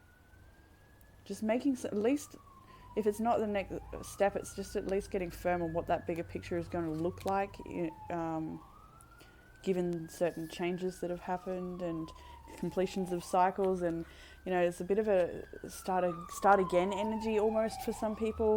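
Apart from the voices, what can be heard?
siren of a passing emergency vehicle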